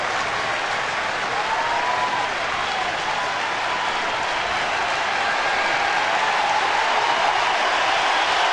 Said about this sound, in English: This big crowd really getting into it now, on its feet.